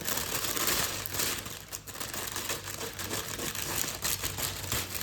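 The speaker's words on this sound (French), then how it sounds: "je vais prendre des ciseaux pour l'ouvrir" Plastic packaging crinkles and crackles steadily while being opened with scissors, a close, continuous rustle with small snips and tearing textures throughout, no voices.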